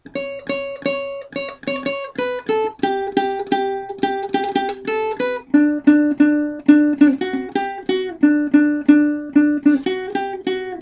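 A ukulele plucks a repeating opening riff, bright picked notes in a steady rhythm, played alone and close.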